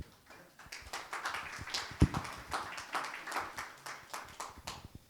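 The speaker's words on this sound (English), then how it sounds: "give yourselves a round of applause for that" A conference audience claps for itself at a home care show kickoff, a scattered, moderate patter of hands with uneven rhythm, fairly quiet overall and thinning toward the end.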